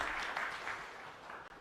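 An audience at a government and industry meeting in Ludhiana applauds, producing a soft, steady wash of clapping heard from a distance and fading slightly toward the end.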